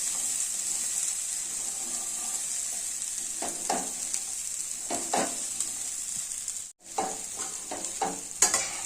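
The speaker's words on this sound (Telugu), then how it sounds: "కాలీఫ్లవర్ మాత్రం కొంచెం ఎరుపు వచ్చే వరకు వేయించుకోండి" Cauliflower frying in a pan with chickpeas, green chillies and salt, giving a steady close sizzle with intermittent scraping stirs and a brief pause near the end.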